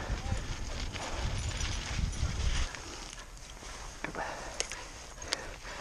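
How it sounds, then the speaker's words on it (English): Horses walking with hooves clip-clopping nearby during an outdoor ride, a few sharp knocks in the second half over low rumbling noise, with people talking. "Come on, we got horses."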